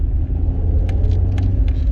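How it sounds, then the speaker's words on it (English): A Rover car engine rumbles steadily from inside the moving vehicle, deep and loud, with a few faint clicks and rattles. "Listen to the engine."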